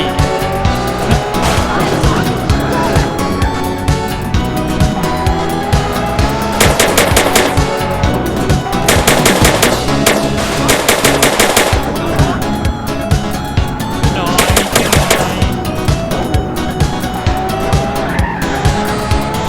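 Gunfire aimed at police in GTA San Andreas, dense bursts of automatic shots mixed with car engines and tire skids over a constant loud game soundtrack.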